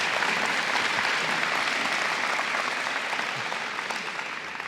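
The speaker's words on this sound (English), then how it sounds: "If we could give her a round of applause." Applause from an audience at a high school scholarship night, a steady wash of clapping that fades slightly toward the end.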